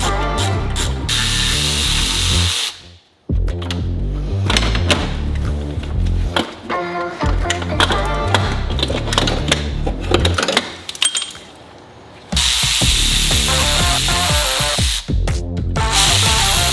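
A power tool cuts off a cooling mod on a Subaru WRX STI, loud bursts of whirring and grinding with short pauses near three and twelve seconds, close by and mostly without talk.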